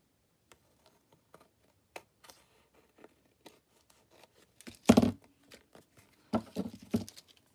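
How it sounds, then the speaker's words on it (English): Scissors cut book-page paper in sparse, faint snips and crinkles, with a couple of louder rustling bursts of handling near the end, in a quiet room. "So I'll get the scissors that I don't mind getting glue on."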